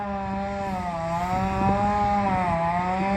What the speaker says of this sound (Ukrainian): І чую, як виє бензопила в неділю.